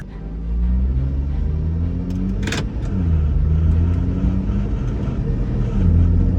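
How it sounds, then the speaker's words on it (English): BMW 340i driving on the road, with steady low engine rumble and road noise throughout, rising slightly near the end, plus a brief sharp broadband burst around the middle. "Now the car drives like a proper BMW."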